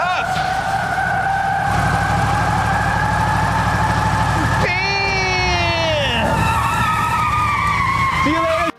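A car in a video game does a tire-spinning burnout, a long loud screech of skidding tires over a revving engine, with a swooping high whine midway and background music.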